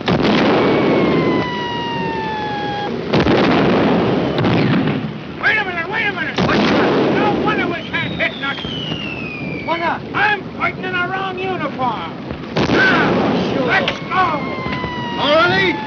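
Naval gunfire at a ship in an old war film, with heavy booming artillery shots and bursts over wind and water noise. Loud blasts recur across the scene, mixed with shouted dialogue.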